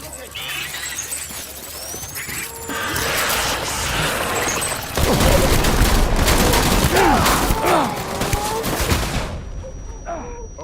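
Gunfire in the game Death Stranding: rapid sustained volleys of shots that grow louder and denser midway, crackling continuously with impacts, while voices speak over the fighting before it cuts off at the end.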